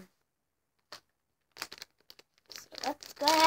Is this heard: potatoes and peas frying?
no